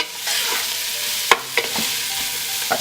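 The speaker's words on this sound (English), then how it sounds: "we'll saute for another couple of minutes until all these flavors are mixed well together" Curry ingredients for a cinnamon shrimp curry sautéing in a pan: a steady soft sizzle with a few sharp spoon-and-pan stirring clinks scattered through, close and alone with no talk.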